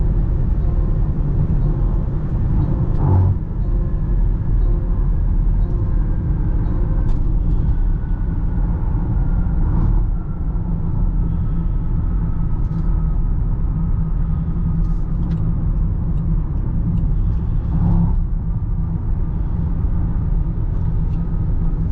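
Steady low road rumble and engine drone from a Range Rover SV with a 4.4 L V8 cruising on the highway at about 130 km/h and 1700 rpm, continuous and even inside the cabin with faint tyre and wind noise.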